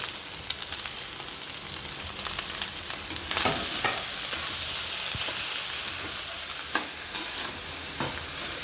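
Leftover rice with potatoes frying in a pan, a steady loud sizzle with repeated scraping strokes of a spoon stirring and tossing the mixture, close and uninterrupted by speech.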